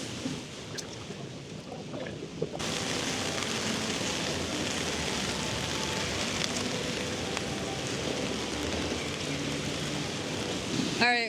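Rain falls steadily outdoors near Shinjuku Station in Tokyo, a dense, continuous patter and wash of city ambience that turns louder after a quieter start.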